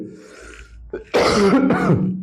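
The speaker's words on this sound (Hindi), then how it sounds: "थोड़ी खांसी हो गई है" A throat clearing followed by a couple of harsh, rough coughs, close and fairly loud, with no talking.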